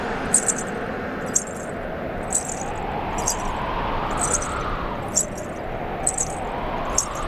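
Small anklet bells (payal) jingle in regular bright bursts roughly every second, as if from slow footsteps, over a steady low ambient background in a royal court setting.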